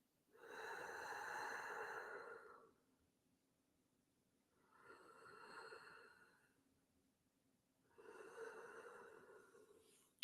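Three slow, deep breaths during a standing yoga forward fold, each a long audible inhale or exhale close to the microphone with quiet pauses between, the first the loudest.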